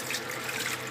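Cold tap water runs steadily from a kitchen faucet into a sink to cool down freshly cooked food, a continuous close, fairly quiet splashing hiss with no talk.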